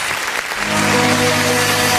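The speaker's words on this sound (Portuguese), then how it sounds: "Vamos aplaudir o nome do Senhor Jesus" A church congregation claps steadily, loud and dense applause that swells slightly and holds, with some music-like tones underneath.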